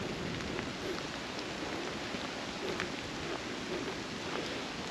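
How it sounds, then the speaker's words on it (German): Steady rain falls on a forested hillside along a hiking and mountain-bike trail, a dense, even hiss of drops filling the whole stretch with no voices. "Es regnet sich jetzt leider so richtig ein."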